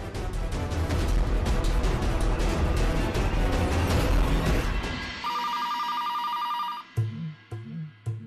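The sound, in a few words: telephone ringing during a call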